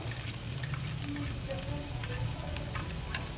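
Carrots, spring onion and tomato stir-fry in a pan for Singaporean rice, giving a steady, close sizzling hiss with faint crackles throughout.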